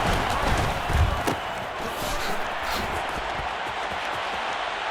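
Stadium crowd in the video game Madden NFL 23 roars and cheers steadily, a dense wash of noise holding at a constant loud level throughout with no speech in it.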